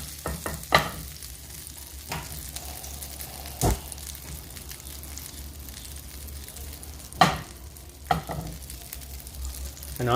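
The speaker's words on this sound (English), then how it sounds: "We're going to add a tablespoon of butter slowly until it foams like this." Butter melts and foams in a pan for a brown butter sauce, giving a soft, steady sizzle. A few sharp utensil clicks and taps break through now and then.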